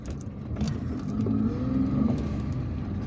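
A car engine hums steadily while driving through the streets of Algiers, with a rising and falling mid-range drone, faint whir, and road noise heard from inside the vehicle.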